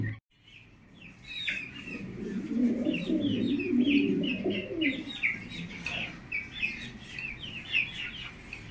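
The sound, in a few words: pigeons cooing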